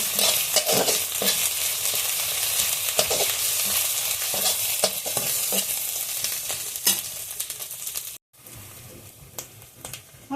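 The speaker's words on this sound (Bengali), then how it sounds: "রসুন বাটা আদা বাটা গোলমরিচ বাটা সবগুলো এখন একসঙ্গে ভালোভাবে ভেজে নেব" Garlic, ginger and black pepper paste frying together in a pan for beef, a loud continuous sizzle with repeated stirring scrapes, briefly cutting out near the end before resuming.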